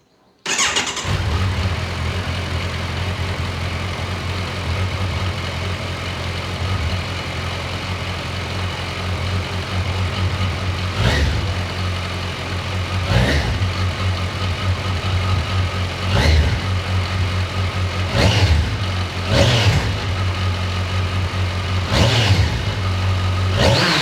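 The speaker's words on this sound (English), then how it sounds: "Let's listen to the stock exhaust first." A stock-exhaust Kawasaki Versys 1100 motorcycle engine starts and idles with a steady low rumble, punctuated by several sharp throttle revs later on, loud and close.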